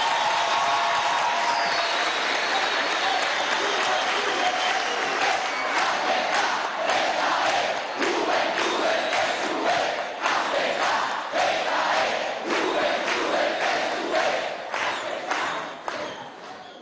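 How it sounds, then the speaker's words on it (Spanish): A large crowd at a political rally applauds and cheers continuously, dense clapping and shouting sustained throughout and fading slightly at the end. "Un aplauso a Hugo Chávez, que se escuche."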